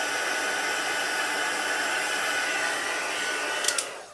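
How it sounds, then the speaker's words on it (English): A heat embossing gun blows a steady, close rush of hot air with no break, then is switched off near the end, leaving a few light clicks. "my heat embossing gun"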